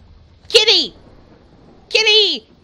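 Two drawn-out, rising-then-falling cat meows from a cat in the game Murdered: Soul Suspect, each loud and clear, separated by about a second of near silence with no talk.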